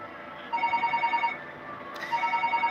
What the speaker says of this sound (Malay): Okey, saya ada angkat dalam telefon le.